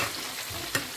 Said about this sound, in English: frying of meat